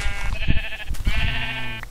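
Minecraft sheep bleating in several wavering, nasal cries close by, with faint game footsteps and soft thuds underneath.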